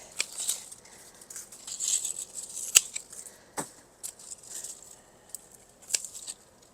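Garden shears cutting back old hellebore stems in a shade garden, with several sharp, crisp snips at irregular intervals over rustling foliage, close and fairly quiet.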